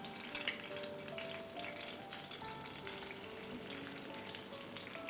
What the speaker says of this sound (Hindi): बिल्कुल ये फ्राई होती है कबाब।